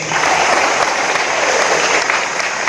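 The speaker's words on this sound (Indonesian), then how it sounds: "Tepuk tangan adik-adik." Young listeners at a dharma talk give a sustained wash of applause, dense and steady at close range for the whole stretch, with no voices above it.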